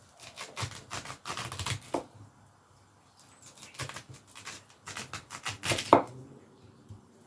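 Taro cut with a knife for Samoan-style fish soup, a close series of rapid crisp chops in bursts separated by short pauses, one sharper knock near the end, no voices.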